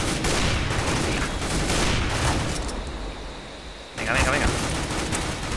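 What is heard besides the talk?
gunfire in the video game CS:GO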